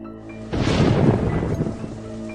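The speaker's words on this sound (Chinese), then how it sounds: "下雨了" Heavy rain pours down with a deep rumble of thunder, bursting in suddenly after a quiet start and staying loud and dense to the end.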